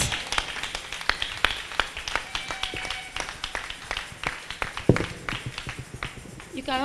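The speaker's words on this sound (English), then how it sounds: "clap your hands for Jesus" A congregation of women at a church camp clap their hands, sharp individual claps in an irregular, fairly rapid rhythm, with a voice briefly heard near the end.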